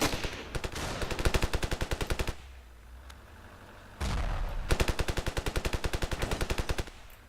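Rapid automatic gunfire in the Ravenfield video game, two loud sustained bursts of evenly spaced shots separated by a short pause, close and dominant over the background.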